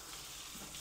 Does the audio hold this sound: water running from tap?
yes